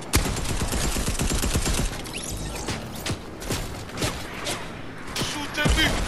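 Rapid bursts of gunfire in the Fortnite video game: dense, overlapping volleys of shots that crack out close and loud, with sporadic single shots and impacts continuing over a steady game backdrop.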